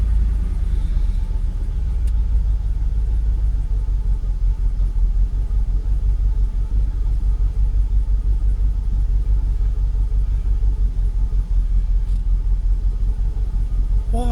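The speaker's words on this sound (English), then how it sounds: "Let me blip the throttle, see what happens" A Jaguar XKR (X100) idling after a throttle blip, with a suspected cam sensor fault: a steady low engine rumble held close and even throughout.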